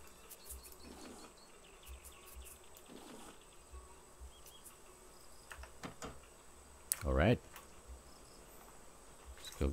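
A faint buzz of bees drifts through steady insect and cricket-like ambience in the survival game Raft, with a brief louder burst of sound near the end.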